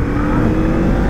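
A Honda CL500 scrambler motorcycle engine pulls steadily under acceleration, a loud, continuous low drone with rising rumble, heard close up with no talking.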